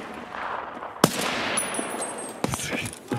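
An SVT rifle fires in Escape from Tarkov, a couple of sharp, loud cracks spaced apart over a background of shuffling and faint game noise.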